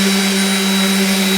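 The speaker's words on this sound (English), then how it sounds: "if one's running the sander, you won't get the dust being spread everywhere" Festool compact sander running with its dust extractor attached, a steady close whirring drone with a constant hum, heard alone without speech.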